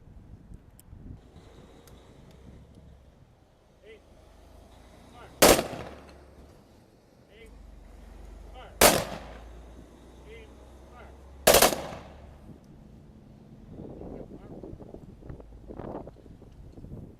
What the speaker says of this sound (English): Firing squad, attention.